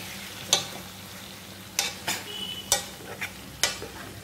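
Amla pickle being mixed with spices, a utensil scraping through it in about six separate strokes spaced unevenly, close and fairly quiet over a low background hiss, with no talking.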